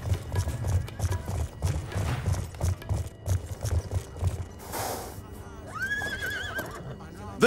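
A horse whinnies amid the thudding of galloping hooves in Call of Duty: Black Ops 2, with a busy game soundtrack and a voice talking over it.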